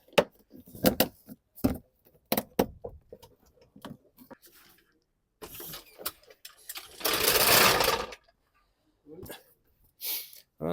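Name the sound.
bolting glow plug relay back in 2019 Ford Kuga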